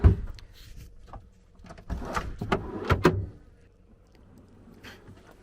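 Camper drawers lined with marine carpet slide and thump shut a few times in quick succession, close by, with short pauses and quiet stretches between.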